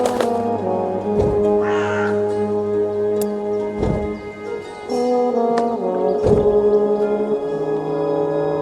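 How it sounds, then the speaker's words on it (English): A talking crow in the video game Dreamfall Chapters caws loudly several times, close and clear over a steady tonal game music bed, with brief bursts of flapping between calls. "there are still talking birds flapping about"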